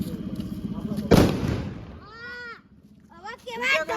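A Diwali firecracker bursts in one loud, sharp blast with a rumbling tail, followed by people talking and exclaiming nearby.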